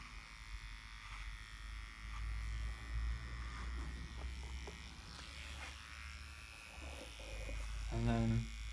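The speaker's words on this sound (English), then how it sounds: "putting the clippers against the skin" Electric hair clippers trimming the edges of a men's haircut, held against the skin, hum in a low steady buzz for several seconds, growing louder near the end.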